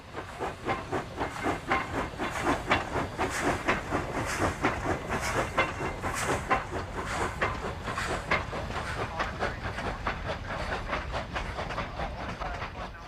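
Cumbres & Toltec Scenic Railroad steam train rolling along the tracks near Toltec Gorge, a steady rhythmic clickety-clack of wheels over rail joints under a continuous hiss, heard from on board and fairly close.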